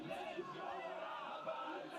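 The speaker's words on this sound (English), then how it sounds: "the crowd responding with a chant of their own" Crowd at a women's national championship rugby gold medal game chants and yells in a distant, muffled swell of many voices, a brief steady roar without clear rhythm.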